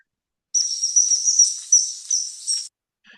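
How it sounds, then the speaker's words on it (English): Common kingfisher calling in Japan: a thin, high, piercing whistled call held for about two seconds with small breaks and pitch flicks, fairly close and alone. "Its call is not like we're used to hearing from kingfishers in this area."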